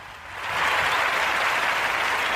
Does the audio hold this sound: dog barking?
no